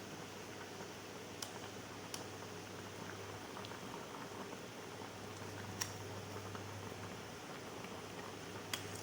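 Mackerel heads simmering in a pot of water for soup stock for a sour curry, heard as a steady, quiet bubbling with soft pops and a few faint clicks and taps.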